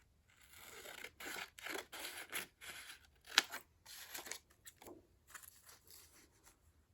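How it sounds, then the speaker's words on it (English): Scissors snip through paper while trimming a page for a handmade journal, a series of close, quiet crisp cuts in uneven bursts with short pauses between. "And then I'll just have to cut off some of the top here."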